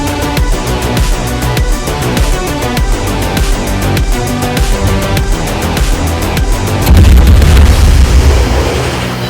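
Main guns of the Nassau, a Tier 3 German battleship in World of Warships, boom in repeated heavy salvos under a dense musical bed, with a bigger, louder low blast near the end.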